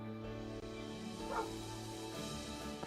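The neighbor's dog Mildred barks from some distance, a faint, muffled series of yips and barks under a low steady background hum.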